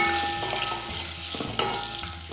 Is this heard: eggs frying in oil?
yes